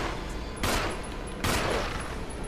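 Gunfire in the video game Resident Evil 1 rings out in two loud, dense bursts about a second apart, over a constant noisy game background.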